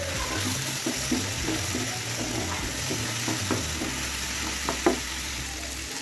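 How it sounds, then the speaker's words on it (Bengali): Green chillies sizzle steadily in oil in a pan after salt is added, with scraping stir strokes at irregular intervals while a Bengali tangra fish curry is cooked. "নুন দিয়ে দিয়েছি, এবার এটাকে নেড়ে চেড়ে ভাজা হতে দেবো।"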